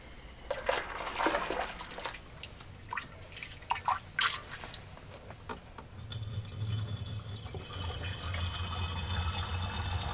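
Hot water poured into a fermentation bottle, with irregular splashes and drips giving way to a steadier filling gurgle, close and fairly loud, no voices.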